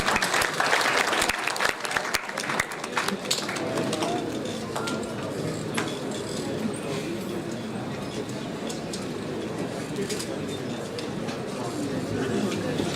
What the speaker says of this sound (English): Give a huge round of applause.